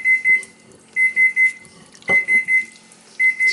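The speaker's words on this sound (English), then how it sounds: "Sorry, my oven is beeping." An oven beeps in quick groups of two to four short, high electronic tones, pausing between groups, close and loud in a quiet room.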